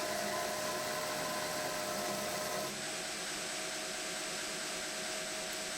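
Grinder tapering a knife tang: steady, loud abrasive hiss and motor whine, continuous throughout, easing slightly in pitch and intensity partway through as pressure changes.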